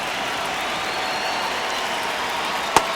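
Stadium crowd noise from MLB The Show during a Yankees vs Astros game, a steady broad roar of cheering that holds level throughout with one brief sharp clap near the end.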